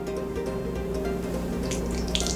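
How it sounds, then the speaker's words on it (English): Myanmar-style pork soup is poured into a bowl, making a steady close liquid splash and trickle over a constant low hum, with a brighter splashy burst near the end. "I want to pour the soup in here and mix it."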